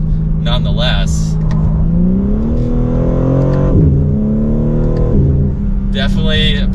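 A 2024 BMW M3 Competition xDrive's exhaust drones and rises under acceleration from inside the cabin, its pitch sweeping up across gear changes, fairly loud and continuous while someone talks over it.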